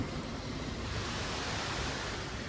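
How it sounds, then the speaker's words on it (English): Steady, roaring wind noise buffets the microphone throughout on the deck of the cruise ship Allure of the Seas, a broad continuous rush with no voices. "It's very windy out."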